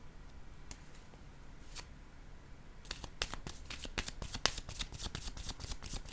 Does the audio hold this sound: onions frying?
no